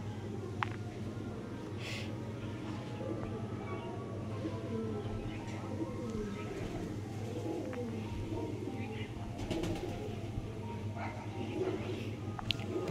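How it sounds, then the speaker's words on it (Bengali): Soft, low pigeon coos repeat steadily close by, with faint background chatter and occasional light rustles. "ये হচ্ছে পায়রা"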